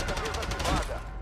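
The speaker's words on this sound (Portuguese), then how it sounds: "Foi brabo esse tiro, hein, moleque." Gunfire in the Call of Duty video game, a rapid, loud string of shots filling the short stretch, with a voice talking underneath.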